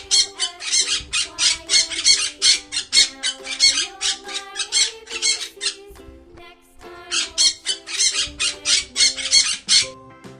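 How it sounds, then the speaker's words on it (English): A parrot squawks in long runs of rapid, shrill, harsh calls, loud and close, with one brief pause partway through before the squawking resumes. "P. P for parrot."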